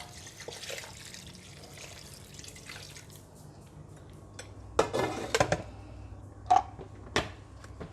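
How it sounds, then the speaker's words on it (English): Sauce poured over braised pork ribs with ginger and spring onions in an Instant Pot gives quiet liquid splashes and drips, with a few sharper clinks and bursts near the middle and end over low background hum. "And now we pour the sauce over it."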